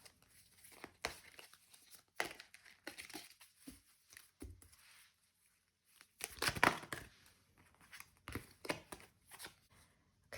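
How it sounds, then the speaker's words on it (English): Playing cards shuffled hard in repeated riffling bursts, close and crisp, separated by short pauses, with no talk. "I'm shuffling a little bit too hard here"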